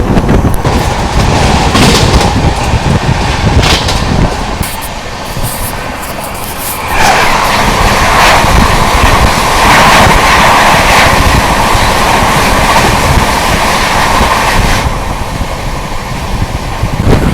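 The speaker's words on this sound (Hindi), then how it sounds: "तो यहाँ पर अभी अपनी क्रॉसिंग होने वाली है नई दिल्ली हैदराबाद तेलंगाना एक्सप्रेस के साथ।" The New Delhi–Hyderabad Telangana Express passes at an Indian railway crossing with a loud, sustained rumble and rushing wind. The roar dips briefly, then swells again as the cars keep rolling by.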